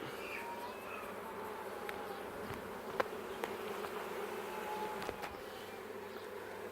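A steady, dense hum of many honey bees buzzing close by in a hive box, continuous throughout with a few faint clicks and knocks.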